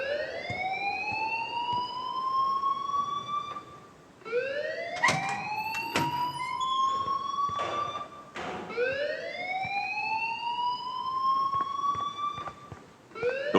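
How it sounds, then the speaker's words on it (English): Alarm in the video game Life Is Strange, a loud wailing siren tone that sweeps upward and repeats in long cycles, sounding alone and close. "please turn off that alarm since that's your job."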